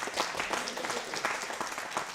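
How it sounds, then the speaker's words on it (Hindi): An audience applauds at a Hindi comic poetry gathering in Rajasthan, with dense, lively clapping filling the hall throughout and a few voices faintly mixed in. "तो एक बार जोरदार तालियां बजाओ।"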